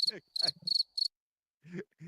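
A crickets sound effect is played during a sports talk show, bursts of high, steady chirping between short snippets of voices, clear and close.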